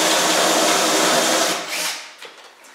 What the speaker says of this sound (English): Okay, I'm going to put my 3/4 inch bit in